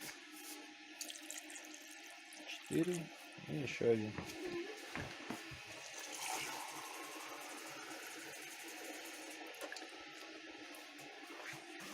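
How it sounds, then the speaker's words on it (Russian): Water poured from a glass straight onto salt to make brine for smoking pork belly, heard as a few short splashing bursts early on, with people talking throughout. "Лей на соль."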